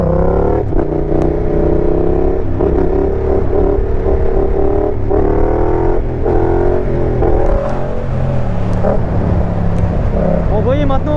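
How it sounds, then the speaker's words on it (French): A Yamaha Tracer MT-07 motorcycle engine drones loud and close with harmonic tones that rise and drop as the rider shifts through gears, and the rider's voice breaks in over the engine at moments. "vous voyez maintenant le passage des vitesses"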